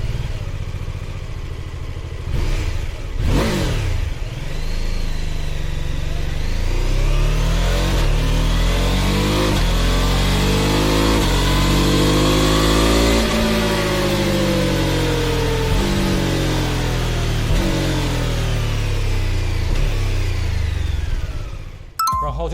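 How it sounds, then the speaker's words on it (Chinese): A BMW F450GS with a new 420cc parallel-twin engine and 130-degree crankshaft revs hard, its loud, close exhaust note climbing, holding, then falling back across a long, steady run with no talking. "首先，450搭载了全新开发的并列双缸420cc 引擎，130度曲轴，声浪终于可以有点销魂的感觉。"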